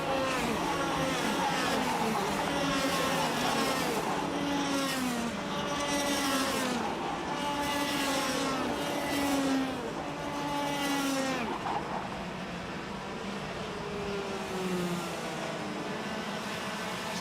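Racing karts at a Tillotson karting championship finale at Kiltorcan stream past one after another in single file, each engine whine rising and falling as it passes, a regular procession of passes with commentary voice faintly underneath.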